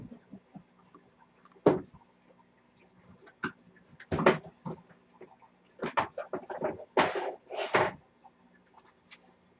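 A closet door in a home with aquariums opens and is handled, making a series of scattered creaks, knocks and rattles. Several sharper, louder bursts come near the end, with quiet gaps between them.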